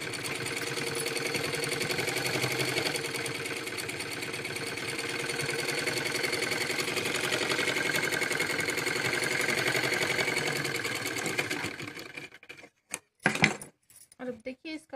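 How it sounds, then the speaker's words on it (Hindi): Steady, close mechanical whirring from a sewing machine stitching a Patiala salwar hem runs unbroken for about twelve seconds, then stops, leaving a few sharp handling knocks. "और एक सिलाई लगा लेंगे।"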